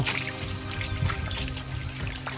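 Steady rain falls and patters continuously, with water trickling and splashing close by; no voices.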